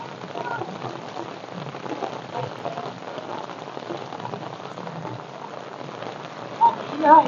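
Heavy rain pours steadily in a village, a dense, close hiss of drops on surfaces that runs throughout, with a couple of brief louder bumps near the end.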